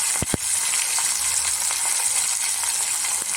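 Green chilies and garlic sizzling in hot oil in a pan, a steady bright frying hiss with a couple of sharp clicks near the start.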